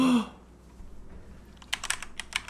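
Computer keyboard keys tapped while playing a game, a quick cluster of clicky presses after a brief voice at the start, close and moderately loud.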